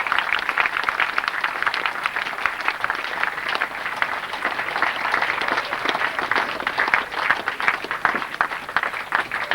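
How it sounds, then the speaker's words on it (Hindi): A crowd at a 1998 Holi spiritual camp gathering applauds to welcome a guest arriving for a garlanding, continuous loud clapping throughout. "तालियों के साथ पूरा धन्यवाद से स्वागत करिए।"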